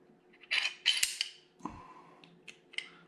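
Metal parts of a Walther PDP Pro SD 9mm pistol click and snap together during reassembly, a series of sharp, close, separate clacks with short pauses between them.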